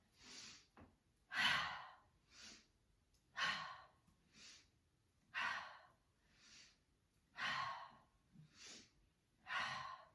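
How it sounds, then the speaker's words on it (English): Breath of joy yoga breathing: a steady series of deep, close breaths, with sharp airy inhales alternating with softer exhales in a regular rhythm over about ten seconds, quiet and alone. "This is called the breath of joy."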